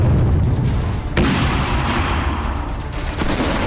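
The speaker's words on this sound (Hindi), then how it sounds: "बम गोलों की बारिश हो रही है।" Artillery shelling and explosions in the Russia–Ukraine war: a dense, continuous barrage of booms and gunfire with a sharp blast near the middle and another toward the end, loud and without speech.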